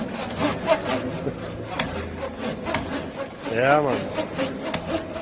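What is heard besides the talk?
Makita saw cutting wood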